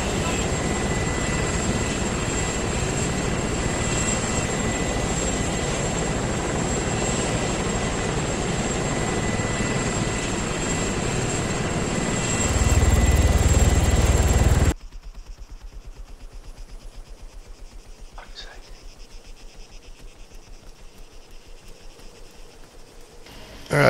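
A video game helicopter engine drones steadily with a continuous whine and rotor roar, swelling briefly louder before cutting to a quieter, muffled interior hum for the remainder.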